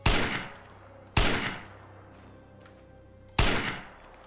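Three loud, sharp gunshots from the video game State of Decay, spaced irregularly with echoing decays between them, over a low game ambience with no talk.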